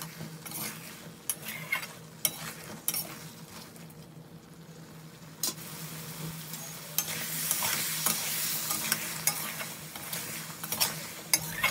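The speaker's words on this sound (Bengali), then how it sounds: "আলু দেওয়ার পরে এটাকেও ভালো করে আমি কষে নেব, যাতে মশলাটা পুরো আলুর মধ্যে ঢুকে যায়" Cut potatoes are stirred in a spice masala in a pan. A low sizzle runs underneath while a spoon scrapes and taps against the metal in frequent sharp clicks, close by and with no voices.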